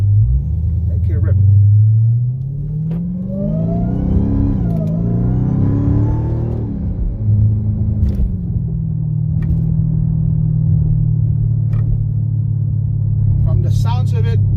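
Dodge Hellcat with an aftermarket exhaust heard from outside, a loud deep idle rumble that swells into a revving surge and settles back to a steady throbbing idle, with a few faint clicks over it.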